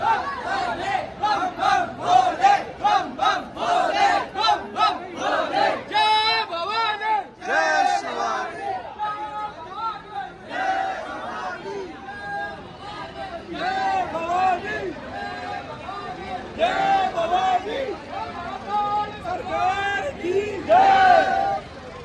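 A large pilgrim crowd at Omkareshwar temple shouts and chants loudly in repeated bursts, a dense roar of many voices with individual cries rising above the babble.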